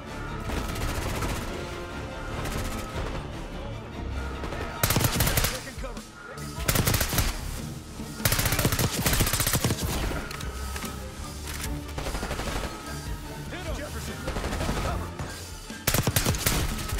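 Rapid automatic gunfire bursts from Call of Duty Black Ops 6, dense and loud, with sharp explosive peaks and a crash, continuous across the stretch with little pause.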